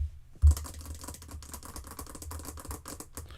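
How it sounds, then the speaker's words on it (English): Rapid typing on a computer keyboard: a dense, uneven stream of close keystrokes at moderate level, opened by one louder thump, with no voices. "Why is all these keyboard sounds going on? Like you typing on a laptop or something"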